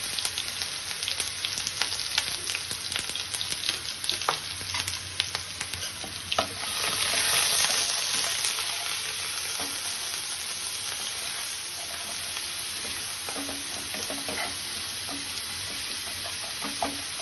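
Pieces of pabda fish sauté in hot oil with salt and turmeric, giving a continuous loud sizzle with occasional stirring scrapes and crackles, steady throughout with no voices.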